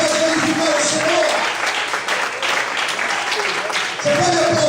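In a church, the congregation keeps up loud, sustained applause to praise God while a preacher's voice carries over the clapping, which briefly dips and then surges again.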